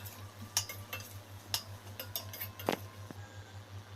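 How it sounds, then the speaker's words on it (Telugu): Chicken pieces fry in a pan with salt and chili powder, and a utensil scrapes and clinks against the metal in irregular taps while a low hum sits underneath, faint and close. "ఇప్పుడు ఇందులో సాల్ట్, కారం యాడ్ చేసుకొని వేపుకోవాలి."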